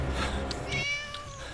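A cat meows in the Scary Teacher 3D video game, one clear drawn-out meow rising and falling, fairly close over a faint background, with no talking.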